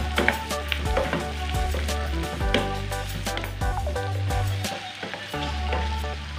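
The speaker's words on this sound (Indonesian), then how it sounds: "kita masukkan cabenya, kita oseng-oseng sebentar. Lalu kita masukkan daging ayamnya." Chicken stir-fries with chili and shallots in a pan, a loud close sizzle running throughout with scraping and tossing sounds from stirring, no voices.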